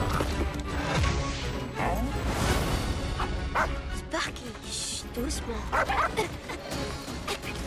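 An animated dog in the French-dubbed film Frankenweenie yips and barks several times in quick bursts amid dramatic soundtrack effects, with voices talking over parts of it.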